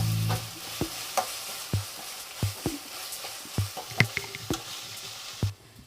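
Mutton cooking with masala, tomatoes and onions in a pan for a dry chukka, a ladle scraping and knocking in repeated strokes over a low sizzle, close up with no voices.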